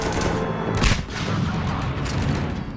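Dense, continuous gunfire from a firefight in the video game Mass Effect 3, loud sustained bursts of shots and booms with no gaps throughout.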